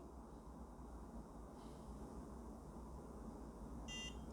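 A beauty lifting device used on the face gives a faint electronic beep twice, once softly and then more clearly near the end, over a quiet, steady background hum.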